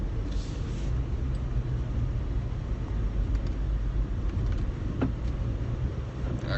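A car moving along the road, with steady engine and road rumble heard from inside at a constant level and no clear change in pace.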